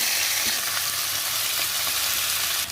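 Washed pumpkin pieces dropped into hot oil with mustard seeds give a steady, loud, close sizzle that holds without a break, with faint stirring clicks and no voices.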